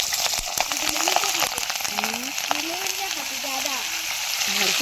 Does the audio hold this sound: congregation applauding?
no